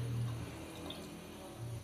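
Water poured into a pan of frying potatoes and peas for pulao, a brief soft splash and hiss of liquid hitting hot oil and vegetables, fairly quiet with no talking.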